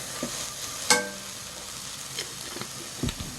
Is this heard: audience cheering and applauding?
no